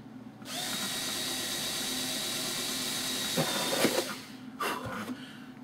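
A power drill driving a screw whines steadily for a few seconds, then stops and gives a couple of short bursts. It is close and moderately loud.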